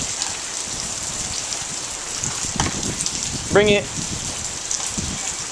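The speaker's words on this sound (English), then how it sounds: "He still wants to play some frisbee in the rain." Steady outdoor rain patters and hisses throughout, with a dog playing frisbee in the wet; someone speaks briefly midway over the constant downpour.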